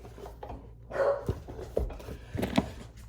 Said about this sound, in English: Don't mind my dog. She's a needy English bulldog. She will bark.